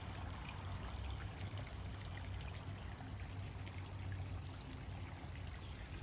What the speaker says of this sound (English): the line coming out of it that feeds the actual waterfall over there